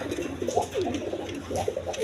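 Silver pigeons at a breeding farm give repeated soft, low cooing phrases, close and steady across the short stretch with no talk over them.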